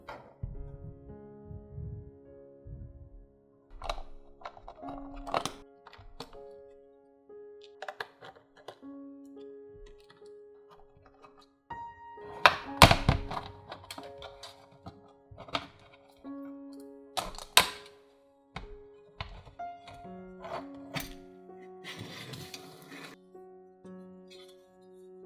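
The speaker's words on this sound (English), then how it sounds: "Removing all the screws around the casing." Screws being removed from an old monitor's casing and its housing opened, a quiet workbench run of scattered clicks, taps, scrapes and light plastic clatter with gaps between, louder handling bursts midway and toward the end.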